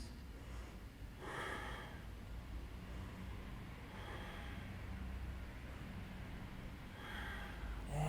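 Slow breaths drawn during a lower-back yoga pose, three soft airy swells of inhale and exhale spaced a few seconds apart over a steady low background hum.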